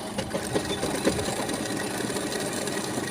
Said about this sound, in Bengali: এক চাপে সেলাই হয়ে গেল